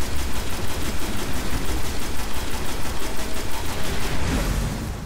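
Steady, rapid gunfire in Destiny hammers at a gate in an even, loud automatic rhythm that runs almost throughout before easing off at the end.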